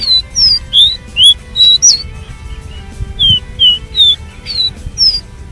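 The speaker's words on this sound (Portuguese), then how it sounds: "O canto dele é um canto maravilhoso." Brazil's smallest songbird singing a series of short, high, clear whistled notes in a steady rhythm, each phrase repeated about a dozen times, close and fairly loud over low background noise.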